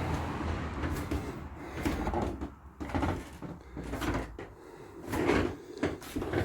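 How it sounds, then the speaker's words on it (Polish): Wooden objects creak and crack repeatedly in a small wayside shrine museum, irregular close knocks and groans of old wood with a faint room hum beneath. "Wszystko skrzypi, trzeszczy."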